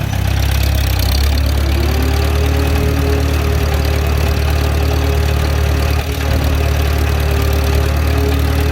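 A Farmall B tractor engine runs at reduced throttle, a loud, steady, close-up low rumble with an even mechanical knock throughout and no voices.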